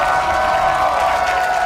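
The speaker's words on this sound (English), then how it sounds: "Very large fan bases, as you can hear in the crowd." A large arena crowd of League of Legends fans at a North American esports match roars and applauds in a loud, continuous wash of cheering.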